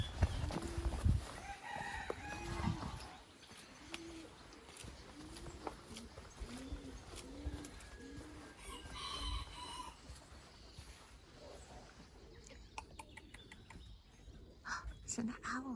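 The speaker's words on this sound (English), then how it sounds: "I can hear cock-a-doodle-doers." A rooster crows repeatedly at a distance during a walk through Borthwood Copse woodland on the Isle of Wight, its calls rising over rustling footsteps and outdoor ambience, with people talking now and then.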